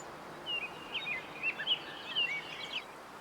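Bird calls in Way of the Hunter trill and tweet in a busy run of short chirps against a soft hiss of outdoor ambience, fairly faint overall.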